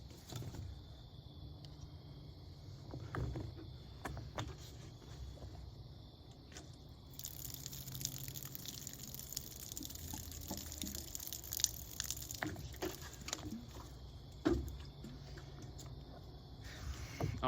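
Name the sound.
simulated heavy rainstorm dripping onto a scent wick bottle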